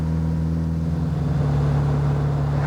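A Lister Storm's four-cylinder 2.6-litre Austin saloon engine runs with a meaty, unrefined hum and low throb, close and steady over a few seconds, with no talking.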